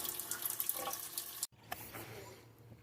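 Water runs through a UV filter on a camper, a soft steady hiss and trickle that cuts off briefly midway before resuming more quietly, faint and close.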